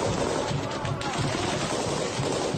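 Rapid gunfire from Chechen special forces fighters shooting at a building in a combat zone, a dense, continuous crackle of bursts filling the whole stretch at close range with no pauses.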